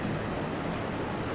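Ocean surf rolls in at Currumbin Beach in Queensland on a big, building swell, heard as a continuous broadband wash of breaking waves with some wind noise and no voices.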